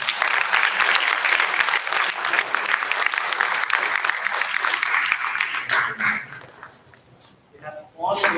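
An audience at a youth ideathon finals applauds judges with loud, dense clapping for several seconds, then the clapping thins out and fades, with a short burst of clapping near the end.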